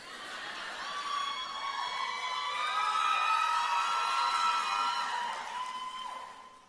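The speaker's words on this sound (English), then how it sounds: "The applause indicates joy rather than sadness." A graduation crowd at UTT cheers and whoops in sustained, rising voices that swell in the middle and fade toward the end, with only faint clapping underneath.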